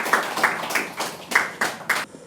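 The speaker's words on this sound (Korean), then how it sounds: "다시 한번 박수 부탁드립니다" Six sharp hand claps land in a quick, steady rhythm, fairly close, with no voices over them.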